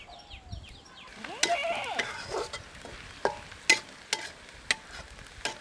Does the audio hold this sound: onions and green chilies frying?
yes